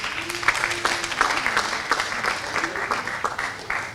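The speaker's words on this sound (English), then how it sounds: "Another big round of applause to our sisters and brothers from Tanzania." An audience claps to welcome guests from Tanzania, with continuous, fairly dense applause of steady loudness throughout, plus a few faint voices in the background.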